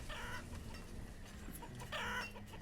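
Chickens cluck in the farming game Banished, two short bursts of clucking over a soft constant ambient bed.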